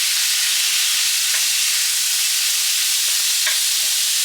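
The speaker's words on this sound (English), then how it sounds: "So I'm going to get that into the pan, and I'm not going to really touch it too much because I want it to get a nice little sear on it." A lean, partly frozen steak sears in a pan with a loud, continuous hissing sizzle, broken only by a few faint small ticks and pops.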